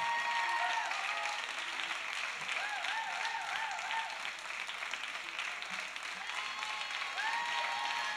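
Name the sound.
applause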